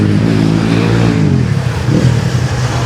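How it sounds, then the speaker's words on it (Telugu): Motorcycles pass on a street in Pokhara, Nepal, their engines a loud, close, throaty roar that swells and revs for a few seconds. "ఆ బైక్స్ ఇప్పుడు వెళ్ళినాయి కదా"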